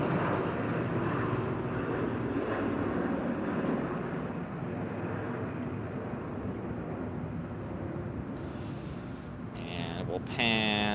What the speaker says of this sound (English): Here's our second CRJ 900.